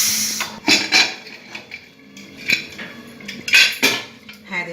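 Metal clanks and clatters from a pressure cooker being opened after cooking Bengali mutton kosha, several sharp separate knocks of pot and lid at close range, with no talk.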